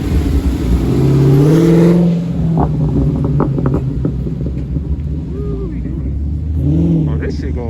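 Car engines rumble and rev nearby under steady wind noise at a car meet in San Francisco, with a vehicle accelerating past early on and more engine noise toward the end.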